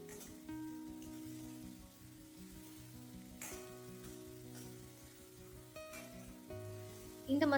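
Onion and a spice mix fry in a pan, giving a steady close sizzle with light crackling and a faint underlying hum, a brief clatter at the end.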